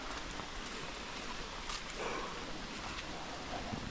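Heavy rain pours down in the morning at a bikers' overnight stop, a steady, dense hiss that fills the whole stretch with no voices.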